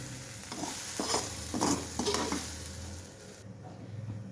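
Okra (bhindi) sautéed in a kadhai, with a soft continuous sizzle and several distinct scraping strokes of a spatula stirring close up, no voices.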